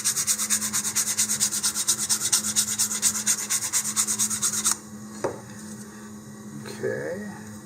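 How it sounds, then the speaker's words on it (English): Steady back-and-forth rasp of hand sanding along the edge of a model rocket part, a KSR-420S kit, loud and rhythmic for several seconds before stopping, followed by quieter handling sounds and a few light knocks. "this edge is not as sanded as the other side, so a little more work on this side"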